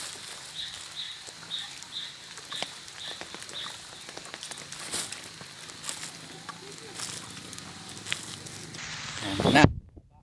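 Rain falls on a muddy, slippery rural road in a village barangay, a steady soft patter of drops with scattered crackles, ending in a sudden loud close handling thump before cutting off.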